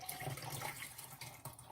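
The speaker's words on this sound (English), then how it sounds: "Pouring myself some tea." Tea is poured into a cup, giving a soft continuous trickle of liquid. The pour is faint and close, with a few small splashing accents toward the end and no talking.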